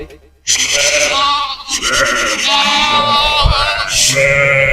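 Loud, close bleats of rams and lambs, several overlapping cries in quick succession, with other animal calls in the background.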